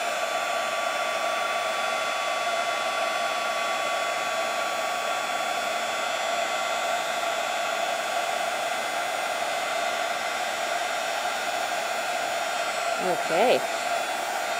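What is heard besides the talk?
heat tool embossing a stamped card piece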